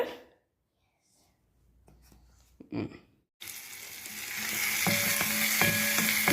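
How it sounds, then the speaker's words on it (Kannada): A brief hush with soft handling noises, then a sudden loud sizzle of onion and garlic hitting hot oil for tempering mushroom fry, crackling steadily up close. "ಈರುಳ್ಳಿ ಮತ್ತು ಬೆಳ್ಳುಳ್ಳಿ ಹಾಕಿ ಒಗ್ಗರಣೆ ಮಾಡ್ಕೊಳ್ತಾ ಇದ್ದೀನಿ"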